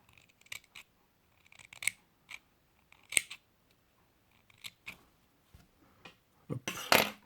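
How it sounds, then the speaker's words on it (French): Scissors snip tape in a string of short, crisp clicks and cuts, sparse and close, ending in a louder burst of snipping. "La paire de ciseaux."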